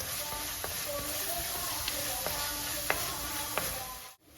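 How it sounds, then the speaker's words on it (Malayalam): Onions and curry leaves sauté together in a pan for a Kerala-style pepper sardine curry, an even close sizzle dotted with small crackling pops and light stirring, dropping off abruptly at the end. "ഇതെല്ലാം കൂടെ കിടന്ന് വഴണ്ട് വരുന്ന ഒരു നല്ല സ്മെല്ല് വരും"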